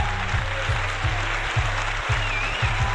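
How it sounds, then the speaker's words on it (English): Studio audience applause on a talk show: a dense, continuous patter of clapping running over a pulsing low beat for a few seconds. "Let me give him a round of applause right now."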